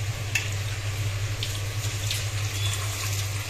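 Water is poured over turmeric-coated chicken pieces to wash them, making a steady, close trickle that runs alone over a low background hum.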